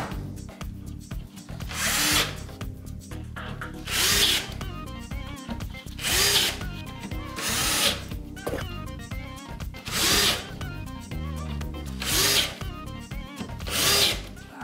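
A cordless power drill driving screws into wood for a scrap-wood bin, with about seven loud whirring bursts at regular intervals separated by quieter handling noises.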